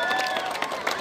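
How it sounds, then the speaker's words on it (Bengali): Applause for the class 7 A team at a school cricket match, a crowd clapping steadily in a brief outdoor burst while an announcer's voice carries over it. "জয়ের জন্য 7 এ শাখার জন্য একটা জোরে হাততালি হবে। জোরে হাততালি।"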